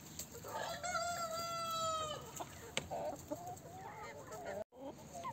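Chickens, including Ameraucana and Black Brahma hens, cluck and squawk near at hand while being fed bread, with one long drawn-out call early on and scattered shorter clucks after.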